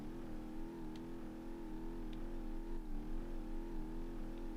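A car in the BeamNG.drive video game fitted with a 2-litre Sport engine, a steady droning engine note under load with gentle wavering pitch, moderately loud and continuous, without speech.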